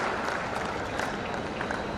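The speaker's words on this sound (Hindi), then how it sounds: "यशस्वी प्रधानमंत्री श्रीमान नरेंद्र मोदी जी का जोरदार ताली बजाकर अभिनंदन करें।" Crowd at an outdoor political rally in Sagar, India, clapping in a brief, dense burst of applause that stays steady and fairly loud throughout.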